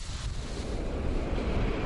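Strong wind roars and buffets the microphone in a steady, rumbling gust with no voices, dense low rushing noise throughout.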